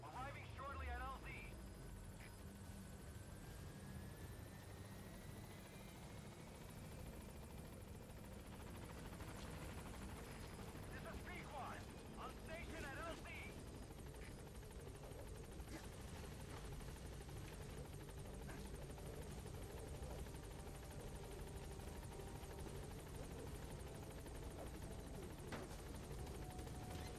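The Pequod helicopter in Metal Gear Solid 5 arrives at a landing zone, its rotor and engine a steady, faint whirring drone that runs throughout, with occasional voices over it.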